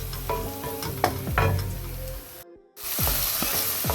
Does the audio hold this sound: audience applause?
no